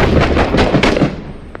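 Gunfire in the Iraq-war shooter Six Days in Fallujah cracks out in a rapid cluster of sharp, close shots, then thins to a couple of isolated reports as the burst tails off.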